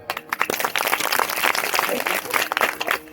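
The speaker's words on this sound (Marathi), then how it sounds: "तुमच्यासाठी पहा कशा टाळ्या वाजतात" Women in a village kirtan audience clap together in a dense, continuous burst of applause, close and fairly loud, with a brief pause near the start before the clapping fills the rest.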